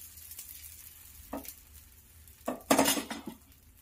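Onion uthappam dosa batter poured onto a hot pan gives a quiet sizzle, with a couple of brief louder bursts of sizzling and clinking utensil scrapes near the end.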